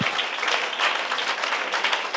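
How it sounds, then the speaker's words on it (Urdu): A congregation claps during an Urdu sermon, a steady wash of applause at moderate loudness that holds evenly throughout with no speaking. "اب آپ کی تالیوں میں کمی ہے"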